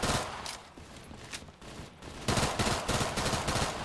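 Rafka gun firing in Call of Duty Black Ops 3 custom Zombies on a Walking Dead forest barn map: steady repeated shots, fairly quiet and continuous, growing louder and denser toward the end.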